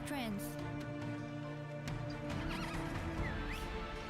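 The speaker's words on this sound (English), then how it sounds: "And Nettie's a pretty horse." A horse neighs in a video game trailer, a clear whinny over steady clip-clopping hooves and a sustained musical score, fairly close and prominent throughout.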